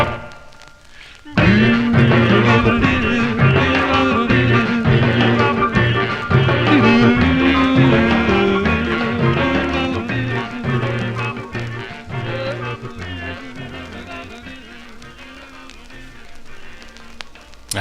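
A 1956 doo-wop record plays from vinyl, with vocal harmonies over a steady rhythm at full volume that slowly fades toward the end.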